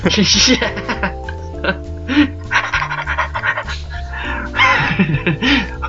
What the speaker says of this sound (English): My dog's just gonna run upstairs.